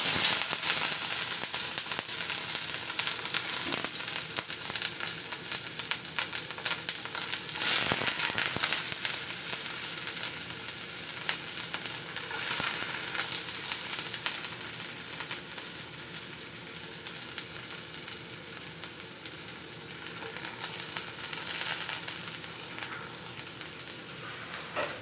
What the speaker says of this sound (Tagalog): Una kong igigisa ay onion.